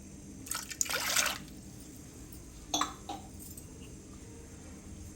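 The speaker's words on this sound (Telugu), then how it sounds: "దాంతో టూ గ్లాసెస్ వాటర్ వేసుకోవాలి టూ కప్స్ వాటర్ వేసుకోవాలి" Two cups of water are poured into a pot for a ridge gourd curry in a short splashing burst, followed by a second brief pour, then quiet.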